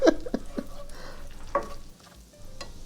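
Onions cooking in a pan, with a soft frying hiss beneath a few distinct stirring scrapes and clinks near the start, then quieter sizzling with no talk.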